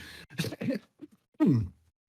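A few short coughs and throat-clearing bursts, close and fairly loud, separated by brief silences, ending in a longer rough cough.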